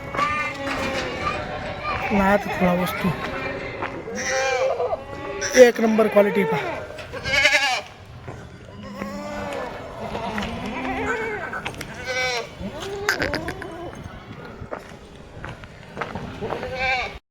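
Kathiawadi dairy goats bleat repeatedly at a livestock sale, several calls scattered through the stretch, mixed with steady talk from nearby men.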